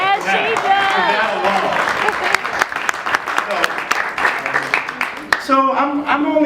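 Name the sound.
audience applause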